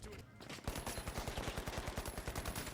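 Rapid automatic AK rifle fire in the video game The Finals, a steady burst of evenly spaced shots lasting about two seconds, loud and close, after a brief pause.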